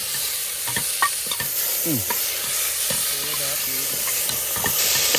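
Tomato and tomato puree sizzle steadily in a hot pan while a spoon stirs and scrapes through them, with occasional clinks of metal against the pan. No one speaks.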